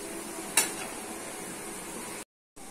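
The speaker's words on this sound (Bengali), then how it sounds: "দিচ্ছি চিংড়ি শুটকি, ভালো করে মশলার সঙ্গে কষে দিতে হবে।" Dried shrimp is stir-fried with spices in a pan, a steady soft sizzle with a sharp clink of a utensil early on, continuing briefly after a short gap.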